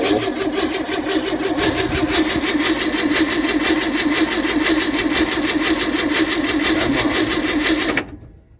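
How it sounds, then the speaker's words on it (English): A freshly rebuilt engine cold-starting and running with a steady, busy mid-pitched idle that carries on loudly and evenly for about eight seconds, then cuts off abruptly. "This is a cold start."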